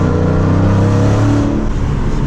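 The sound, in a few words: muscle car engine accelerating, exhaust roar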